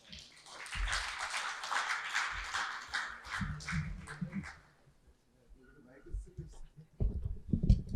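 Audience at an education and AI conference clapping to welcome a speaker, a spread of hand claps over the first several seconds that fades out, followed by quieter shuffling and a voice talking near the end.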